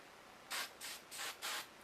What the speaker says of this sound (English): spray it just to give it a little bit of lift